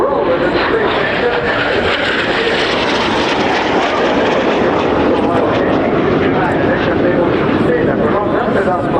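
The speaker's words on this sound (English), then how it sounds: "8 aircraft to the left, 1 coming to the right" Several aircraft fly in formation over an airshow display line, their engines a loud, steady, broadband roar that holds throughout, while a commentator's voice runs over the top.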